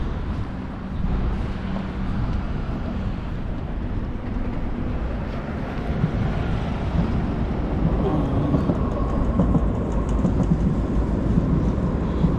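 A metro train rumbles steadily at a Gdansk railway station over constant city noise, with a low rolling roar that builds slightly toward the end.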